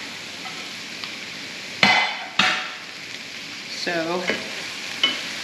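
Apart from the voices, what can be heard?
jalapeno, yellow and green peppers cooking in a pan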